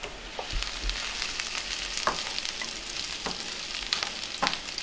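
Garlic and mushrooms sizzle steadily in a hot pan, a dense continuous frying hiss broken by occasional scraping clicks as a utensil stirs them, close and without any talking.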